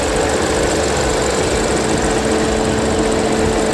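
The 1.5-litre turbo engine of a Geely Okavango runs steadily and loudly up close, with a constant droning hum and a faint rattling tick mixed into the noise.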